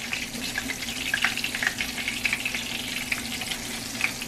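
Pork chops dredged in flour sizzle in a frying pan, a dense, even hiss with light spitting pops, close and constant, over a faint low hum and without speech.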